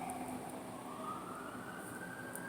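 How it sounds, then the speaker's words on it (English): An emergency vehicle siren wails faintly outside, its tone slowly rising as it passes, distant and steady beneath a quiet indoor background. "You hear that siren?"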